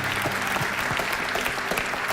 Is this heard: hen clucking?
no